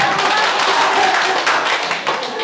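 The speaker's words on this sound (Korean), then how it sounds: "박수 한번 보내주십시오." A room of people clapping together at a church gathering, a dense and fairly loud burst of claps that stays level before tapering slightly at the end.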